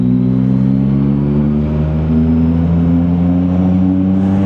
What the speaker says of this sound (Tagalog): yung ganda nung tunog ng exhaust